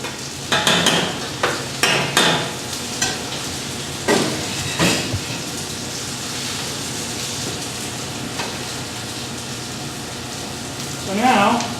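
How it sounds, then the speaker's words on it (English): Panko and cheese coated food sautéing in a pan, with a steady sizzle and several sharp clatters and stirring knocks near the start, a few more scattered through, and a louder burst at the end. "these saute up very nicely"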